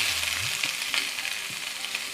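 Kohlrabi and the white parts of green onion fry in a pan with a steady, close sizzle, plus a few light clinks from stirring.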